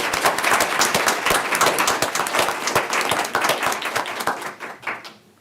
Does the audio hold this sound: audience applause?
yes